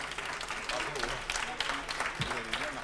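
Audience applause fills an award ceremony for a business and environment prize in 2015, a steady wash of clapping from a crowd that continues through the moment, with speech-like sounds mixed in.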